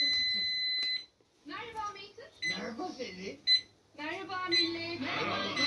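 Electronic beeping tones from a wired alarm system's main panel sound at the start and then again alongside a person talking, loud and close.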